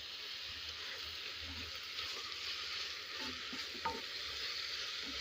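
Tomatoes sauté in a pan for meat rice, giving a soft, steady sizzle with light stirring scrapes throughout and no talk.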